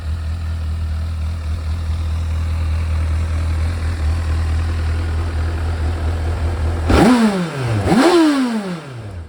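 A 2008 Honda CBF 1000SA motorcycle engine idles with a low, steady throb, then revs sharply twice near the end, each rev quickly falling back.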